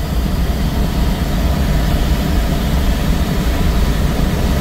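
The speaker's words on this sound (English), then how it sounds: "Glider and tug, clear to display and land runway 18" Propeller tug aircraft towing a glider at an air display, a continuous broad engine roar that stays loud and steady throughout, with no talk.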